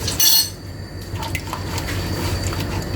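Spoon clinking and scraping against a cooking pot while red chili powder, turmeric and salt are stirred together for a degi-style chicken korma, with one brief loud clatter early on and steady soft metallic stirring noise after it.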